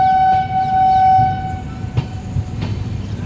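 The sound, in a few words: train 15655 entering Jammu Tawi station yard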